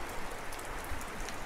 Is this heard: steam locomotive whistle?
no